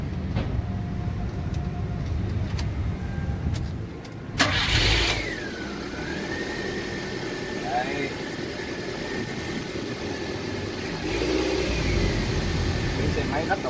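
A JAC X99 light truck with a 1.3-litre petrol engine cranks and fires, then settles into a steady idle that holds for more than ten seconds, close and loud with a slight rise in the revs near the end.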